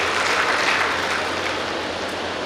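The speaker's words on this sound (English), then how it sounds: "One round of applause to all the teachers who have dedicated their time, energy and made you doctors today" Applause from the audience at a medical college graduation ceremony in 2022, honoring the teachers: a steady, dense wash of clapping held at an even level throughout, with no voices over it.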